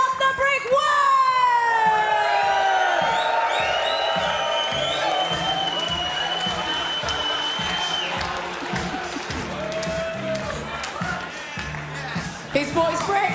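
A crowd cheers and whoops loudly for a fighter entering at a chessboxing event, with whistles and shouts rising over the noise before it gradually settles, and voices heard throughout.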